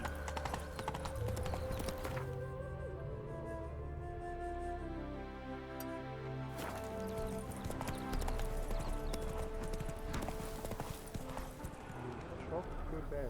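Horse hooves clip-clopping in The Witcher 3, a steady close rhythm of hoofbeats running throughout, mixed with game music and spoken dialogue over it.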